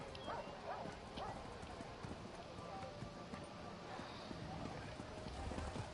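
Horse hooves clip-clop in Elder Scrolls Online, a steady rhythmic patter of game footfalls running under a continuous background of ambient game noise at moderate level.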